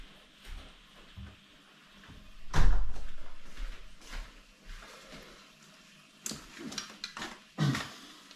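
Door being pushed shut on a rainy day, a sharp close thud followed by a few softer knocks and handling bumps amid quiet background.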